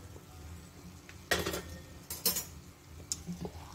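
Metal katori mould lifted from a pan while frying katori chaat cups: a few light metallic clinks and scrapes in quick clusters against a quiet kitchen background, with no talk.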